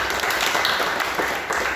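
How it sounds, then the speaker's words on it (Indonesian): Audience applause at an Indonesian seminar on supervisory boards in the JKN-KIS health insurance program, a brief dense wash of clapping filling the room. "Tepuk tangan buat beliau"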